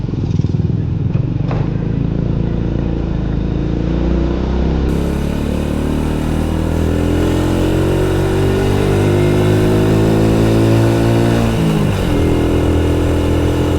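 A Honda Supra X 100 motorcycle engine drones loudly and continuously while being ridden, rising steadily in pitch as it accelerates, briefly dipping around a gear change, then climbing again.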